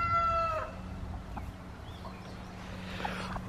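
Chickens on a farm cluck and call nearby, starting with a rooster's crow, followed by scattered soft clucks over a low steady background hum.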